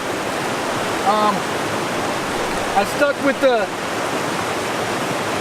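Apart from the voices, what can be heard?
Little Niagara waterfall and stream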